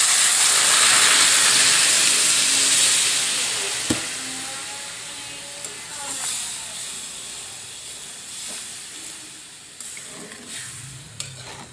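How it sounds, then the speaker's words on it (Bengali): Water is poured into a sizzling pan of spiced potato and masoor lentil curry, giving a loud initial hiss of steam that gradually settles into a softer simmering sizzle with a few clinks. "আমি এবার জল দিয়ে দিচ্ছি।"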